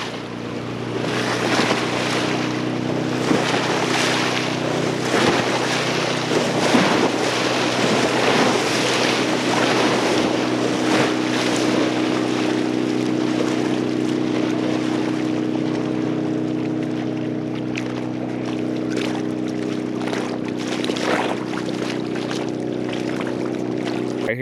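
Boat motor on the Sacramento River during the striper spawn run, a steady engine drone with water wash and wind running continuously for the whole stretch, moderately loud and close, no voices over it.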